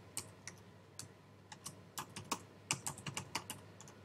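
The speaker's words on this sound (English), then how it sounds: "Type your email address in." Typing on a computer keyboard, with quiet, close key clicks in irregular bursts, a few isolated taps followed by a quicker run of keystrokes over faint background hiss.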